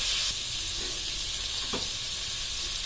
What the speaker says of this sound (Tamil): பொன்னிறமாக வர்ற வரைக்கும் அப்படி தனித்தனி லேயராக வர்ற வரைக்கும் நல்லா வதக்கி விடணும்